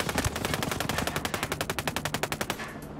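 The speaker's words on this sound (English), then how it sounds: "We had to return some fire there." Rapid automatic gunfire in the tactical shooter game Ghost Recon: Breakpoint, a fast even burst of close shots for about two and a half seconds before cutting off.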